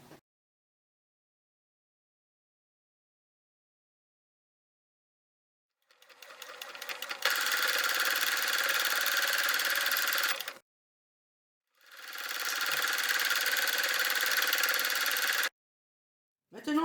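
A sewing machine stitches fabric for a school pencil case in two steady runs of rapid, even whirring, separated by a short pause and preceded by silence.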